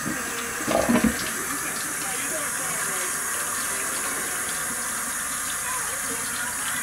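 Cold water runs steadily from a tap onto a wooden board in a constant gushing stream, with a brief clatter near the start.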